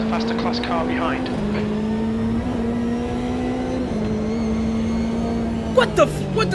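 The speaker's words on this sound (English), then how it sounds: "There's a faster class car behind." Race car engine in Automobilista 2, a faster-class car closing from behind, droning steadily with pitch shifts between gears under an ongoing engine tone, and a brief revving burst near the end; a voice talks over it.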